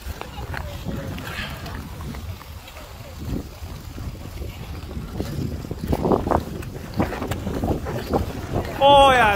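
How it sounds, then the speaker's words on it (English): Gusty wind blows outdoors on a frozen skateway in Canada, buffeting the microphone in uneven bursts and swells. Brief human vocal sounds break through near the end. "Oh yeah, it's windy, huh?"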